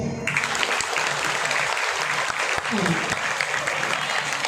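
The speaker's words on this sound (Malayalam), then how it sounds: "എ ടീമുകാരൊന്ന് ഉറക്കെ കൈയടിച്ചേ" A team of women at an Onam gathering claps loudly on request, a dense, sustained burst of applause with voices mixed in throughout.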